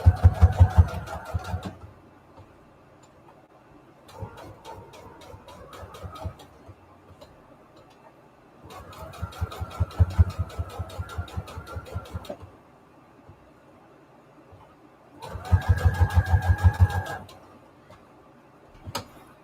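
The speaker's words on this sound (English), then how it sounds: "Let me just go ahead and stitch around the edge here." A sewing machine stitches around the edges of fabric scraps on junk journal tags, running in four rapid rhythmic bursts of clattering needle strokes separated by quiet pauses, close and clear.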